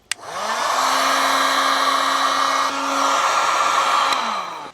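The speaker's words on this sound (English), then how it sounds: "I'm just going to heat shrink the lot" A heat gun blowing steadily while shrinking heat-shrink tubing over e-bike wire joints: a loud, close whooshing roar with a motor whine that rises at start-up, holds for about four seconds and winds down at the end.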